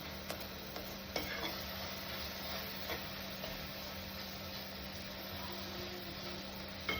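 Tomatoes stirred in a pan over a medium gas flame, a steady soft sizzle with scraping stir strokes throughout, fairly close and even in level.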